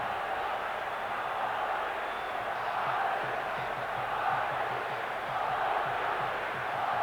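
Large football stadium crowd at a Real Madrid versus Atletico Madrid match roaring in a steady, dense wall of cheering and chanting, loud and continuous throughout with no break.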